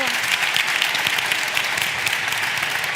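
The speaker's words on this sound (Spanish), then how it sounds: "un aplauso para ellos" Applause from a studio audience at a Spanish science show, thanking guests after a chemistry segment: dense, steady clapping from many hands throughout, close and fairly loud, with no voices standing out.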